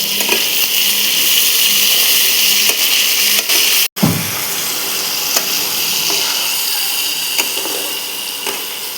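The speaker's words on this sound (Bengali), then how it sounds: "এবার আমি সবজিগুলো দিয়ে ভাজব" Vegetables including cabbage fry in hot oil with bay leaf and dried chilli in a kadai, a loud continuous sizzle with a brief sharp break partway through, then the frying carries on strongly.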